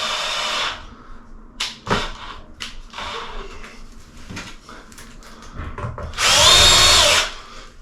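A power drill fitted with a Bosch tile bit whirs in two short bursts, at the start and near the end, with clunks and handling noises in between, during a bathroom renovation.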